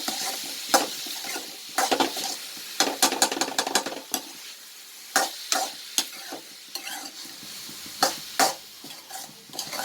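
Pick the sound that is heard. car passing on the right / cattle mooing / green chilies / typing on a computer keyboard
green chilies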